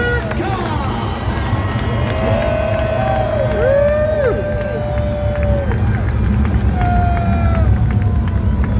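Race fans at the 54th Jim Baker Memorial Dirt Cup, a dirt track race, roaring and cheering as a steady crowd wash with scattered whistles and shouts, with a voice over the crowd noise.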